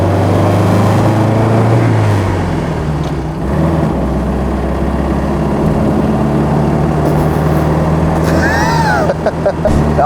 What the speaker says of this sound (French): Bon alors, est-ce qu'on se ferait pas une petite accélération?